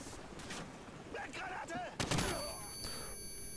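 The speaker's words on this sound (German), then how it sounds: "ich schieße gerade vor mir auf den Boden rum" Gunfire in the video game Call of Duty 4: a burst of rapid shots in the middle, with faint game effects and distant shots around it.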